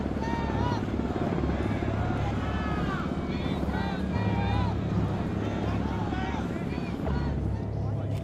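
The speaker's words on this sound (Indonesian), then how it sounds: "sejumlah helikopter bahkan terlihat mendarat di atap gedung parlemen tersebut" Helicopters over and landing on the roof of the parliament building in South Korea during the martial law declaration: a steady, loud rotor drone runs throughout beneath a news reporter's narration.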